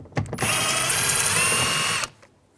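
A power tool fitted with a 7mm socket backs a screw out of the rear door panel of a 2002-06 Chevy Avalanche, giving one steady, close whirring burst of about two seconds that stops abruptly.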